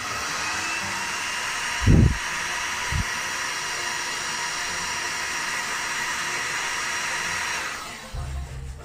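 Hot air from a heat gun warming old underseal on the floor of a classic Mini during restoration, a steady close blowing hiss that drops away near the end, with a couple of brief knocks.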